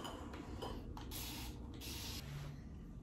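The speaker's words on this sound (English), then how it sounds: "I take my alcohol water and just spray the whole thing first" Several short hissing bursts from a spray bottle of alcohol water misting a houseplant infested with scale, close and fairly loud, separated by brief pauses over a low background.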